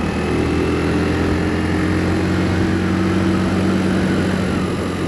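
Bullit Bluroc 125 motorcycle engine running steadily close by, a moderate, even mid-pitched engine hum that is neither harsh nor quiet, holding constant for a few seconds.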